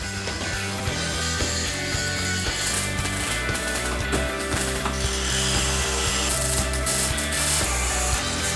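Tools at work turning a steel filing cabinet into a snow shovel, giving repeated ratcheting clicks and grinding mechanical scraping in an uneven rhythm, loud and close, with no talk.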